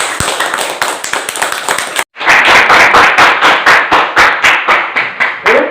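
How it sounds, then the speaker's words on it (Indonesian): Classroom applause for a student presenter, loud close clapping from a group that breaks off briefly, then resumes as a fast, even rhythm of sharp claps, with no talking over it. "Sekarang kasih tepuk tangan untuk Anda ini ya."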